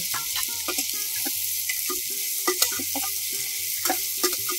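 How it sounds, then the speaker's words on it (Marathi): Vegetables with mung beans and bean pods sauté in hot oil, giving a continuous sizzle broken by the scrape and clatter of stirring, with a soft melody playing behind. "हे छान परतायचे तेलात"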